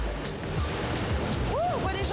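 Roller coaster trains roll overhead in a rushing, rumbling wash of noise that builds and sweeps past, with a rising and falling whine near the end, people talking faintly nearby.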